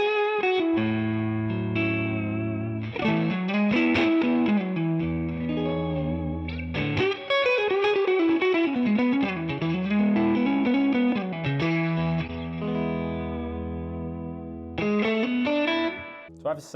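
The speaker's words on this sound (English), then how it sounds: "I'm just going to go through each of the pickup options to show you what clean tones you can get from this guitar" A James Tyler Studio Elite HD electric guitar plays clean through its pickup options with chorus-like shimmer and reverb. Chords and melodic phrases ring out steadily with sustained notes and brief pauses between passages.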